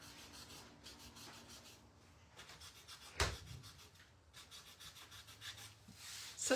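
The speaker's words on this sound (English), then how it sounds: "So just a real light little sanding, and it does knock those bridges down really nicely." Light hand sanding across a stencil, knocking down its thin bridges: soft, rhythmic scratchy strokes in repeated bursts with brief pauses, close and fairly quiet, with one sharper tap midway and no talking.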